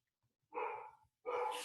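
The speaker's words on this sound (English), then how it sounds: "You might be able to hear my dogs." Dogs barking indoors in the background, two short bursts of barks with a pause between, moderately loud against an otherwise quiet room.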